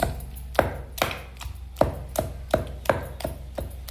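Garlic cloves are pounded in a stone mortar for a village-style ivy gourd chutney. About ten steady, close, thudding strikes come at an even rhythm, with no talking.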